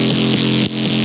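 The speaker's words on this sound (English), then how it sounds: "is the main bass, which sounds like this when soloed" A heavy, buzzing synth bass from a remake of a drop plays soloed, loud and gritty, with a wobbling pitch that sweeps downward in repeating swells and a brief cut near the middle.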